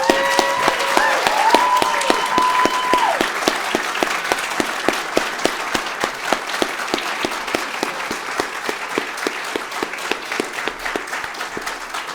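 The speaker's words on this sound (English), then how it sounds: "let's give President Song and True Mother a big round of applause again" A large audience gives a loud, sustained round of applause at an international gathering welcoming a religious federation president, dense clapping continuing for about twelve seconds and slowly thinning, with no talk over it.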